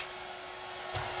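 An electric mixer running on low while mixing pretzel bread dough, a steady whirring motor hum with a slight bump near the end.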